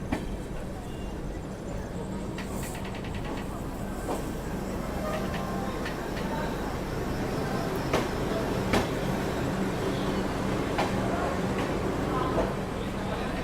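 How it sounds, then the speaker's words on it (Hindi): Trains at one of India's busiest railway stations, with a Bandra–Saharsa Humsafar Express ahead: a steady rumble with occasional clanks and sharp clicks, people talking over it. "हमसफ़र एक्सप्रेस यहाँ पे देखो आज की है, हमारे आगे आगे ही बिल्कुल चल रही है।"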